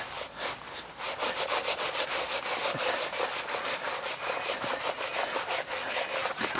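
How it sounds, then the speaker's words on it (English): A wet rag rubs back and forth over a car floor mat just cleaned with a Rug Doctor extractor, giving a steady, close scrubbing swish with rapid repeated strokes throughout. "Let's take a wet rag to it and see if there's any residual soap that the extractor might not have pulled out."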